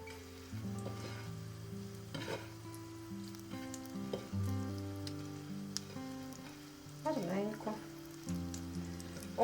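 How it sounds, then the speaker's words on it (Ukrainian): Breaded zucchini sizzles and crackles steadily in a hot pan, with occasional louder spitting bursts and soft scraping, while background music plays. "викладаємо на розігріту сковорідку"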